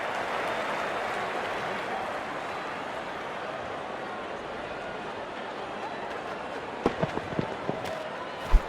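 A stadium crowd in a cricket video game roars and applauds steadily after a wicket, a broad sustained wash of cheering with a few sharp pops and thuds near the end.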